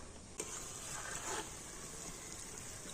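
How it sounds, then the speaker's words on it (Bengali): Pakoras frying in a pan of oil over low heat give a steady, faint hiss with a brief clink near the start, and no voices. "এবার আমি একদম হালকা জাল দিয়ে তো উল্টে পাল্টে এই বড়াগুলোকে খুব সুন্দর করে ভেজে নেব"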